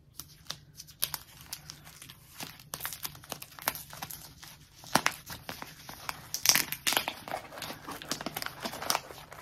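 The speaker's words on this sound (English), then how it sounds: "So are you ready for the unwrapping? You ready for the rustling?" Paper and plastic wrapping of a knitting-yarn advent calendar package being unwrapped by hand, close up, with irregular bursts of crinkling, rustling and tearing across about nine seconds and quieter gaps between them.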